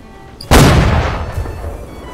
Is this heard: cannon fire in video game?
yes